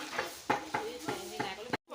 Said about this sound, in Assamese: এয়া চুজি ভাজি আছে আমাৰ